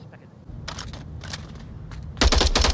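Gunfire in the Onward VR shooter during a competitive match, scattered bursts of shots followed by a louder, denser volley near the end, with commentary voices underneath.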